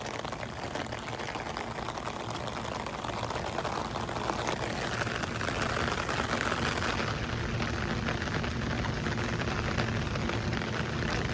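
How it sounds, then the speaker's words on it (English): Light outdoor rain makes a continuous soft hiss and patter on surfaces, steady and moderately loud throughout, with no voices. "I took shower in the light rain."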